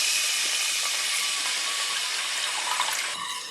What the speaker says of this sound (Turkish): Ve bıraktım bu kendi kendine kaynayacak.